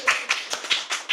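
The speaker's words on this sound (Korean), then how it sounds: "큰 박수로 환영해 주시기를 기도합니다." A few distinct hand claps in a steady rhythm, about five sharp, close strikes, as a church congregation at a Sunday service welcomes a deacon.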